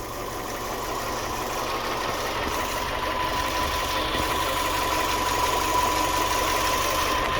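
A Fiat 500 with a 1.2 engine idles steadily after an oil service, a constant mid-pitched hum with a faint whine running through it, close and unbroken for several seconds, with no voices.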